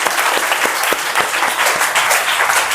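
Audience at a quiz show for schoolchildren breaks into loud, dense clapping, many hands overlapping in a continuous burst close to the recorder with no talk over it.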